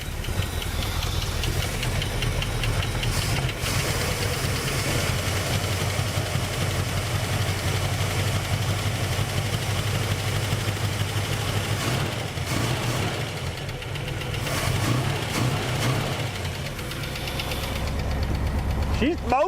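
A 1967 Buick GS 340 engine runs with a steady, loud, knocking low rumble, dipping briefly midway before it resumes, while voices talk over it.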